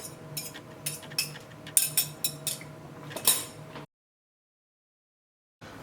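Cooked cochinita pibil pork being shredded with utensils against a dish, a run of close, bright metallic scrapes and clinks in quick irregular bursts, ending abruptly in silence before a faint sound returns at the very end.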